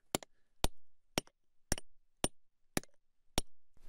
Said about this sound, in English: Just have to find that right seam to get your chisel in.